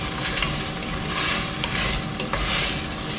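Ingredients for laing are stirred in a dry pan with no oil as they brown, producing a continuous close scraping and light sizzling hiss with soft rhythmic strokes and no voices.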